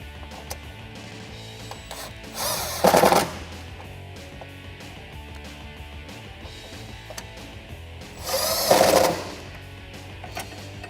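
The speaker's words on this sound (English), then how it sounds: "I'm going to go ahead and tighten up these bolts now" Bolts on a Jeep Gladiator side step tightened with a 10 mm socket, heard as two loud, rapid rattling bursts from a power tool about six seconds apart over a quiet background.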